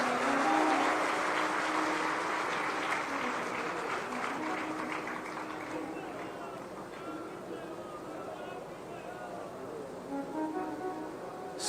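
An audience at the Smriti Prakatyotsav Mela 2025 gathering breaks into loud applause that fades gradually, with a voice speaking over the clapping.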